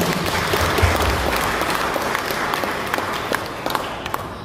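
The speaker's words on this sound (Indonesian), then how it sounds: "mari sejenak beri tepuk tangan untuk yang mewakili mereka" An audience at a church synod opening session in Sukabumi claps together in a steady, dense round of applause that holds evenly and begins to thin out near the end.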